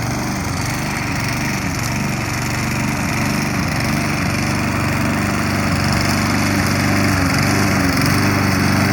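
A mowing machine cuts grass and dirt with a loud, continuous, buzzing engine drone and gritty cutting noise, close and steady throughout, with no voices.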